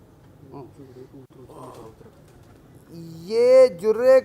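Deep, throaty coos of yellow-eyed pigeons swell up near the end, a few rolling calls close by, following quieter murmuring and faint rustling.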